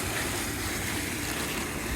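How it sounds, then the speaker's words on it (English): A waterfall on Mount Kilimanjaro near Shira Camp gives a steady, dense, close rushing roar of falling water with no break. "So here we are approaching another waterfall"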